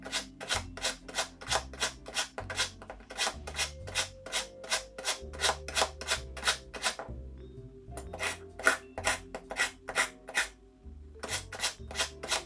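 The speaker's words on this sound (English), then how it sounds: "let's go to town with this sharpener. See if it makes any more difference." A manual knife sharpener is drawn repeatedly along a santoku blade in quick, rhythmic rasping strokes, close and clear, pausing briefly midway before the steady scraping resumes.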